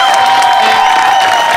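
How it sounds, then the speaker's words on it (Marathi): Studio audience at a Marathi stage comedy show breaks into loud, sustained applause and cheering, a dense wall of clapping and shouts that holds steady for the whole moment with no one speaking over it. "एकदा जोरदार टाळ्या त्यांच्यासाठी झाल्या पाहिजेत"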